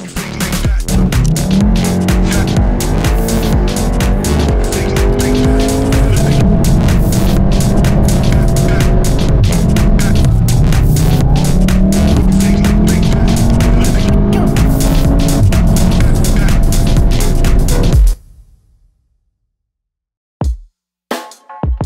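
Volkswagen Golf 7 R facelift driving, its engine note loud and steady with rising and falling revs for about eighteen seconds before cutting to near silence with a couple of brief clicks.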